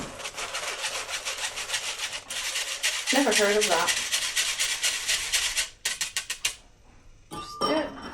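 A whisk scrapes rapidly and rhythmically through Sacher torte batter in a bowl, giving a fast, loud, steady scratching stroke. It pauses briefly and then resumes in short strokes while a person speaks over it.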